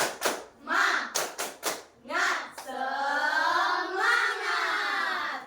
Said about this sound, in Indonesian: Ibu mohon untuk Hera memimpin tepuk semangat